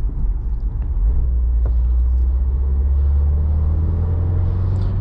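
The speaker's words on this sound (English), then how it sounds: "The power band of this four-cylinder, when you're like accelerating, it's not the smoothest." Four-cylinder engine of a 2016 Subaru WRX Premium with a 6-speed, pulling on a road. The drone is steady, low and loud, with a heavy rumble that holds throughout, and nobody speaks.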